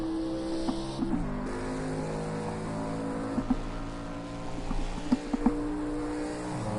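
Stock car engines drone from on board during Daytona 500 practice, a steady, loud, sustained roar with a few brief sharp peaks as other cars run close by in the draft.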